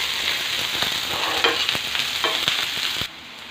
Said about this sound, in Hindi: लहसुन, प्याज बारीक कटा हुआ, अब इसको अच्छे से भूंज लेंगे